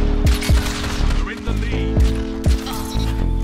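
Destiny 2 hand cannon fire: about five heavy, booming shots spaced roughly half a second apart, loud and close over a busy game soundscape, with a voice talking alongside.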